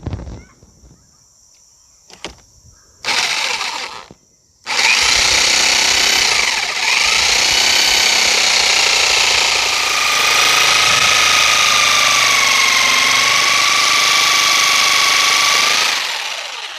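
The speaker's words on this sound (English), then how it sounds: "now I just have to drill holes and use my jigsaw to cut the little notches out" A power drill and then a jigsaw cut notches into wood for a tree house porch wall. Short bursts come first, then a long, loud, steady buzzing cut that stops near the end.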